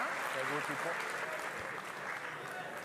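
Crowd applause at a pétanque triplette final between Draguignan and Albi, a steady wash of clapping throughout with voices talking over it.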